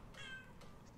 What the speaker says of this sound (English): You keep hearing a cat because there is a cat.